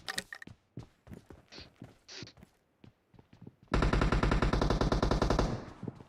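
Rapid automatic gunfire in the PUBG video game: scattered single shots and footsteps first, then a long, loud sustained burst of machine-gun fire.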